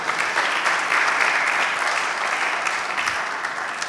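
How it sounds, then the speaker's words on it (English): A roomful of people applauding at a payments roadshow event in Ghana, steady dense clapping that holds at a loud, even level for the whole stretch, with no voices over it. "A round of applause, please, for Monica Waro."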